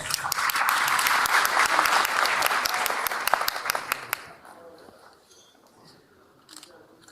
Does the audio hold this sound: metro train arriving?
no